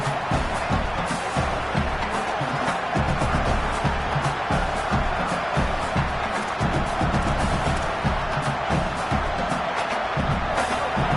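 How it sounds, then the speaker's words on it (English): A packed stadium crowd in the College Football 27 video game, Ole Miss vs. LSU, roars in a dense, continuous, loud wash of cheering that holds steady throughout with no clear breaks. "This crowd, full throat, spreading the eardrums"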